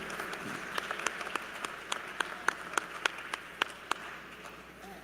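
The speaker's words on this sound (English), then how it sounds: "Another round of applause for her," Audience applause at a university fall commencement ceremony, a steady crowd of clapping with scattered sharper claps standing out, sustained for the whole stretch at moderate level with no talk over it.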